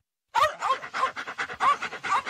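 Rapid rhythmic panting of a dog heard close up in a radio advert, about a dozen quick breathy puffs following a brief silence at the start.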